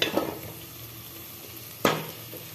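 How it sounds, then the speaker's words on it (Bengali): Spice paste sautéing in a hot pan with oil, a steady sizzle broken by two sharp stirring scrapes near the start and later, close and clear with no talking. "এবং মশলাটাও কষা হচ্ছে।"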